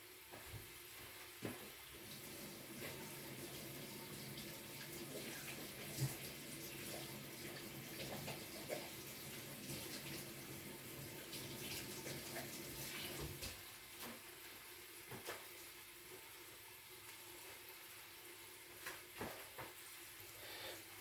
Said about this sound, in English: afterwards, you go ahead and wash your hands